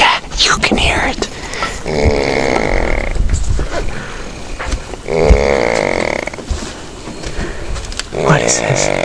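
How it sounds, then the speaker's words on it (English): A sailor snoring aboard a boat in Dalmatia, Croatia, with long rasping breaths rising and falling in a slow rhythm while people talk nearby. "The snore."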